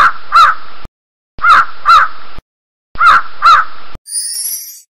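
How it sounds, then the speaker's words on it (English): A crow caws loudly and close in three bursts of harsh, paired calls separated by silences, with a short bright chime at the end. "Crow."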